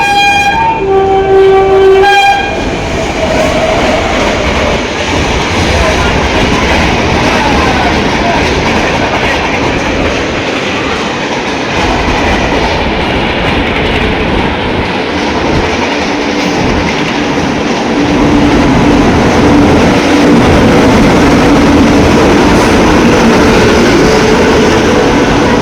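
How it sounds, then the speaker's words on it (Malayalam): Trains arrive and pass during a Duronto Express sleeper-class journey from Hazrat Nizamuddin to Mangaluru Junction, with a loud continuous rumble and clatter of carriages on rails and a brief horn toot near the start. "ഇവിടത്തേക്ക് ഒരു വണ്ടി വരുന്നുണ്ട്, അങ്ങ് അതിലൂടെ വേറൊരു വണ്ടി പോകുന്നുണ്ട്."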